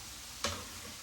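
Steady, quiet sizzling of carne asada meat in a pan fills the clip, with one brief sharp tick or tap partway through.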